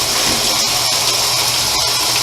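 Washing machine drum filling with warm water for a medium load of microfiber towels and foam pads, a steady loud gushing rush that holds constant from start to end with no voices.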